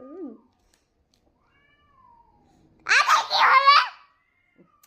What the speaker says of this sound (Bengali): দুইটা বিড়াল সন্ধ্যা ইফতারের পর থেকে ঝগড়া করতেছে